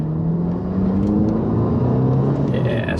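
A VW Golf GTI with a rebuilt engine accelerates under boost, heard from inside as a loud, steady engine drone with rising tones and road rumble throughout.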